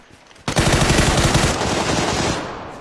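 Sustained automatic gunfire in the battle royale game PUBG, a loud, close burst of rapid rounds lasting a couple of seconds before tailing off.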